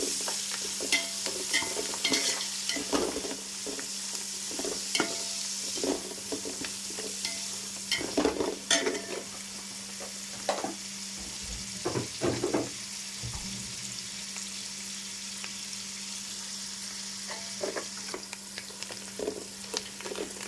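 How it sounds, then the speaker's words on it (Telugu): Curry leaves and coriander frying in a pan for egg pulao, a steady close sizzle with repeated stirring scrapes throughout, no talking. "చూసారు కదా ఎంత బాగా ఫ్రై అవుతున్నాయో"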